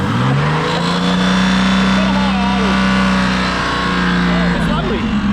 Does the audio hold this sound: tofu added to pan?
no